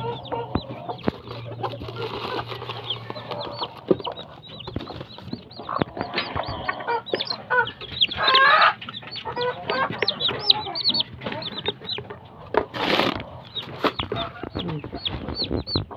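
Fighting cocks (gamecocks, Talisay) cluck and chatter steadily throughout, with scattered sharper calls and a brief louder squawk near the end, fairly close with faint background noise.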